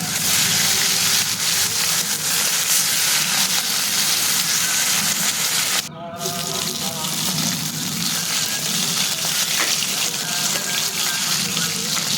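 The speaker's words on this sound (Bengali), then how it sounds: "বাকি মাছগুলোকেও ঠিক এইভাবে ভেজে নেব।" Pieces of bhola fish fry in hot oil with a continuous hissing sizzle close up, interrupted by a brief dip halfway through before the steady crackle resumes.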